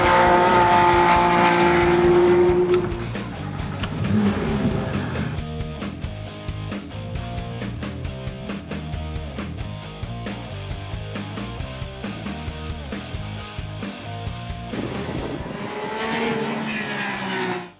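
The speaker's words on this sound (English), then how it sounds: "today at NCM Motorsports Park, I have a Porsche GT3 to take on track" A 2018 Porsche 911 GT3 at speed on the NCM Motorsports Park race track, its engine loud and close with rapid rising and falling revs through gear changes and brief tire squeal, with no talking.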